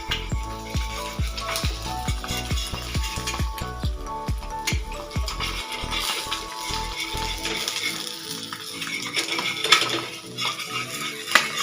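An egg pancake cooks in a pan while a utensil scrapes and stirs it in a quick, steady rhythm of metallic strokes, with a faint sizzle underneath; the stirring stops partway and leaves soft kitchen clatter.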